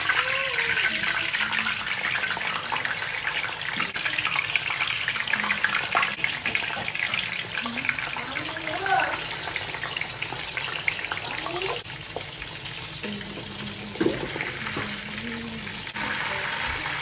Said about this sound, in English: I am going to add in a good amount of oil in my frying pan and then add in some onions, peppers.